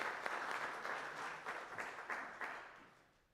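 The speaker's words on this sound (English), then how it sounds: "I think we should give a round of applause to the staff for Volume 15" An indoor audience at a literary magazine launch party claps in a brief burst of applause that starts full and fades out over a few seconds.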